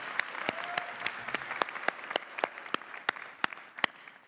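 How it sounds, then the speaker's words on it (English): Applause at a university graduation ceremony on the Gold Coast for the interpreters and the MC, heard as a soft, sparse patter of hands with distinct sharp claps standing out at irregular intervals, fairly faint and distant. "I'd now like to call, yes, a special round of applause for them"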